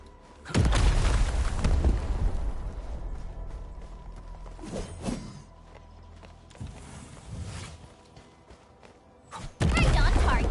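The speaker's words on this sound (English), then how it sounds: "I give that explosion a 10 out of 10." Explosions go off in the video game Arknights: Endfield, with heavy booming thuds at the start and again at the end and a rumbling tail between them, while voices speak over the action.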